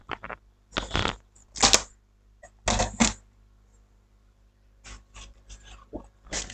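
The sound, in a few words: cutting paper border with a craft knife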